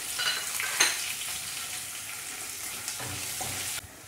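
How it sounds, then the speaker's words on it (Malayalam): Three chopped green chillies sizzle in a pan of oil over a low flame while mango pickle is being made, a steady broadband hiss with a brief stir clink near the start and a short stirring scrape before it cuts off. "അതിലേക്ക് 3 പച്ചമുളക് അരിഞ്ഞത് ചേർത്ത് കൊടുക്കാം."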